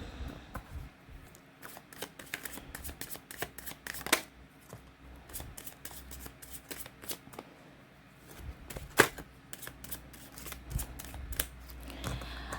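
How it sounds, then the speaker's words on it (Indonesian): Tarot cards being shuffled by hand, a rapid crisp riffling and slapping that runs continuously with brief louder flicks, close and fairly quiet, with no speech over it. "Sambil saya baca doa dan saya kocok kartunya"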